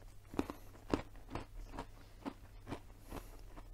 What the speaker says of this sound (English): my lavalier mic might well be picking up chewing sounds